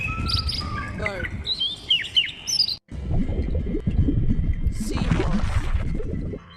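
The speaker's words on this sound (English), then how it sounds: "Bird." Several quick, high bird chirps and tweets sound close at first, then give way to a softer, noisier stretch with a faint squawk, no voices.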